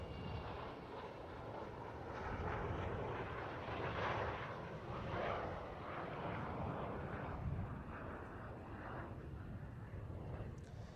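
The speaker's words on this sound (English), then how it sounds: "The 18-wheeled undercarriage down on this pass." Avro Vulcan bomber flying past at an air display with its 18-wheeled undercarriage lowered, a deep, broad jet roar that swells and fades steadily over the whole stretch, heard from a distance without voices.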